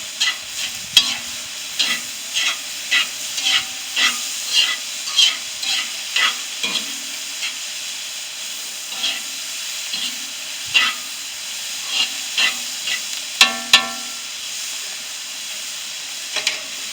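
Salted onions brown in a pan over a homemade outdoor stove with a steady bright sizzle. Regular stirring scrapes sound across it at a near-even pace, close and clear, and no one talks.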